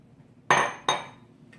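Brownie batter with flour is stirred in a bowl, and two sharp, close clinks ring out as the utensil strikes the bowl's side, each fading quickly in a quiet room.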